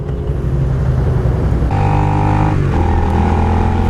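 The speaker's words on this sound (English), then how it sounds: "This is a loud ass bike." A loud, bike-swap motorcycle engine runs steadily and close by, holding a heavy idle before a sharp step up in revs at about two seconds that is held, with a brief dip near the end.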